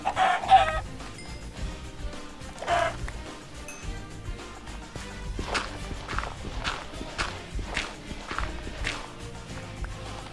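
Minecraft chickens cluck in short, scattered bursts alongside a regular patter of footsteps, with game ambience underneath and no talk.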